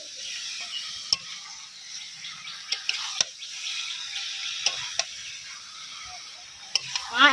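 A large batch of chicken sizzles in a pan as it is stirred, with a steady hiss and occasional sharp scrapes and clinks of the spoon against the pan. No one speaks.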